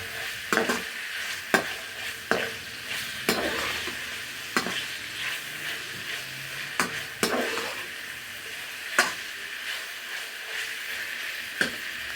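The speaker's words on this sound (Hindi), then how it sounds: "तो अब हम प्याज शामिल कर देंगे और प्याज को डाल के फिर फ्राई करेंगे ताकि अच्छे से सॉफ्ट हो जाए" Onions frying in a pan for aloo palak, a continuous mid-level sizzle punctuated by regular sharp scraping knocks of a spatula stirring every second or so, with no talking.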